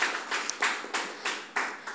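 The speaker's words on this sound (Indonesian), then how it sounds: "Tepuk tangan juga kepada Pak Wahyu teman-teman." Audience clapping at an Indonesian discussion event, a moderate room of people applauding in a series of uneven swells, fairly close and with no talking over it.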